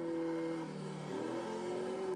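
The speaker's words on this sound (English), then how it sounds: "Here we've got a car engine." An AI-generated car engine hums steadily at close range with sustained tonal drone and slight pitch rise near the end, running alone for about two seconds.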